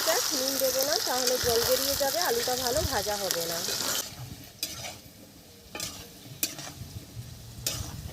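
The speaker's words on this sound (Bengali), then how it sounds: "আলুটা একটু ভাজা হয়ে যাক, নুন দেবো না, তাহলে জল বেরিয়ে যাবে, আলুটা ভালো ভাজা হবে না।" Potatoes fry in mustard oil in a pan, with someone talking over the steady hiss for the first four seconds, then a quieter sizzle continues alone, broken by a few sharp clinks or stirs.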